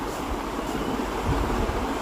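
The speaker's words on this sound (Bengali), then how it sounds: "কি সুন্দর বাতাস বইছে" Strong wind blows outdoors across rice fields, making a steady, broadband roar and rumble against the microphone, with no voices over it.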